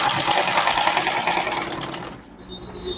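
A sewing machine runs steadily while stitching a turban with boning inside, a continuous loud mechanical whir for about two seconds. The motor then stops and leaves a quieter tail with a faint high tone.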